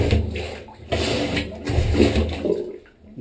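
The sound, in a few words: plunger pumping over a clogged drain, water sloshing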